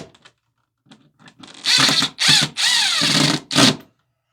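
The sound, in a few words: power drill driving screws into electrical box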